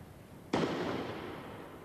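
A single shotgun blast from a break-action gun, a sharp loud crack followed by a long fading rumble and echo outdoors, with no talking.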